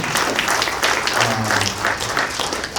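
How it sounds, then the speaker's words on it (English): Applause from a stand-up comedy audience, a dense, fairly loud rush of clapping with some crowd murmur, swelling and easing in waves over a few seconds. "a big round of applause to the Fireworks Committee"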